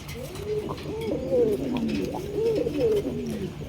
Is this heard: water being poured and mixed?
no